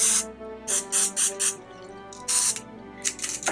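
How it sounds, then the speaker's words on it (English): Cooking spray hissing from a can near a hot, sticky stovetop mixture: a close, loud run of short sprays, five quick bursts followed by two longer ones after a pause. "like I said, you're going to spray."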